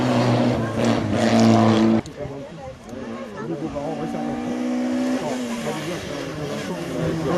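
A race car at the Quettreville hill climb roars past, its engine note rising and then falling as it goes by and fades. An announcer talks over the pass.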